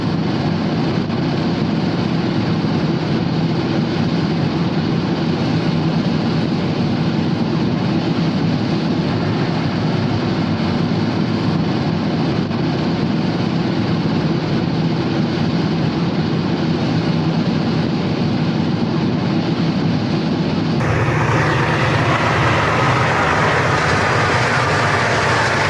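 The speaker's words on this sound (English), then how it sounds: "A freight eastbound along Route 11 in Conklin." Erie Lackawanna freight train running eastbound along Route 11 in Conklin: a loud, steady rumble and roar of the passing train that continues unbroken, with a brighter, hissier wash of noise near the end.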